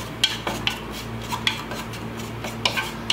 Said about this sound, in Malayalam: ഇതെല്ലാം കൂടി ചേർത്ത് നന്നായി വഴറ്റണം.